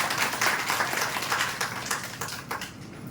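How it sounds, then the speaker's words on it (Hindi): An audience at a business meeting claps in a dense, continuous wash of applause that fades slightly toward the end of a few seconds. "एक बार ताली बजा देंगे"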